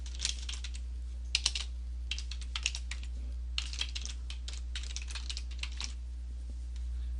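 Typing on a computer keyboard while filling out an online form: quiet clusters of quick key clicks in bursts with short pauses, close up over a low steady hum.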